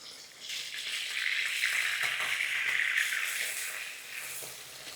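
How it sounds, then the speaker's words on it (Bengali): Bata fish frying in a pan, a dense, steady hiss of sizzling oil that swells and holds close and loud, unbroken for several seconds with no voices. "এবার আমি মাছগুলোকে এই পিঠটা ভালো মতো একটু ভেজে নেব"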